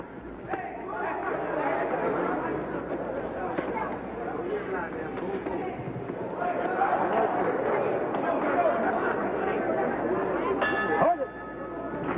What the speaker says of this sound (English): The bell for the end of round two.